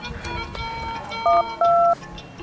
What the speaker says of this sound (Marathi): वैभ्यालाच फोन लावतो.